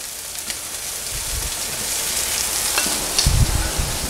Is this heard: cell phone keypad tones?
no